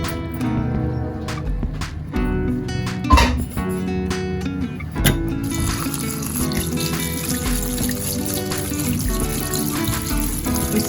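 Cooked macaroni is rinsed under running tap water in a kitchen sink, a steady close gush of water splashing over the pasta, with clinks and knocks near the start and the flow continuing to the end.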